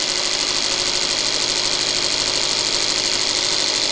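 A homemade alternator wired in series, putting out 16 volts AC, spins steadily under its driving motor, giving a constant dense whirring hum with mechanical vibration and no pauses.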